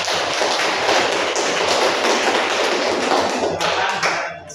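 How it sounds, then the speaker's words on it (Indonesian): Classroom students applaud group 2 after its presentation on software, a dense, steady wash of many hands clapping for several seconds before fading near the end. "berikan tepuk tangan untuk"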